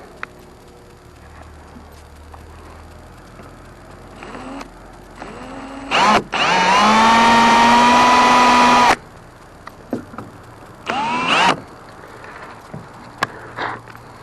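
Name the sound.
drilling a hole for a 6-32 nut and bolt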